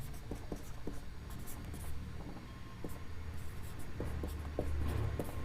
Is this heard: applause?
no